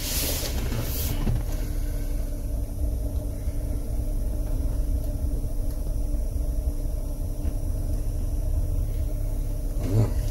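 A car with a 360-degree bird's-eye camera system and DVR being driven, giving a steady low engine and road rumble from inside the cabin, with a couple of brief knocks.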